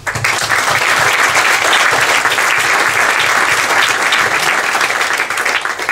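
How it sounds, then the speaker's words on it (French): Sustained audience applause at an anniversary event for a tech community, a dense, loud wash of clapping that holds steady for six seconds without talk. "j'aimerais qu'on les applaudisse ce soir"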